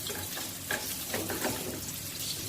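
Onions sautéing in a pan for lechon paksiw, a soft continuous sizzle with light stirring clinks close by, no one speaking.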